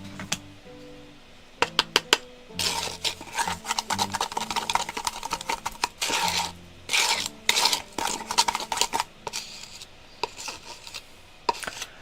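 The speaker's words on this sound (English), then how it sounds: "We'll give it a good stir." A mixture is stirred in a container with quiet, irregular scraping and clicking strokes in close bursts, separated by short pauses.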